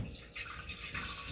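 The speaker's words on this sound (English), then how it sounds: "We add 2 cups of water." Water poured into a pot of plain rice, a steady continuous splashing and trickling stream, close by and moderately quiet, with no talking.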